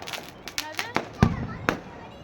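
Diwali firecrackers burst at night in a string of sharp cracks spaced through the clip, the loudest near the middle, with voices chattering faintly in the background.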